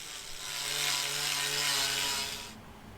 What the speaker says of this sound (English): I realise an angle grinder isn't perhaps the best tool